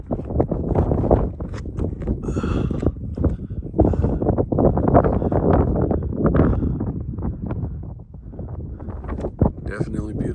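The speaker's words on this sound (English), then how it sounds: "Wind's picking up, but it feels good." Strong wind buffets the microphone outdoors on the White Rim Road near the Shafer Trail, a loud, steady rumble with gusty surges throughout and what may be faint voices mixed in.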